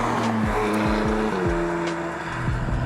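A 2018 McLaren 570GT supercar engine drones loudly and close, with its pitch rising and falling through several quick gear changes.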